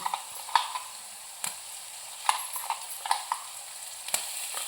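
Masala roasting in a little oil in a pan for a Kolhapuri chicken curry: a soft, low sizzle under scattered sharp clinks and scrapes of a spoon against the pan.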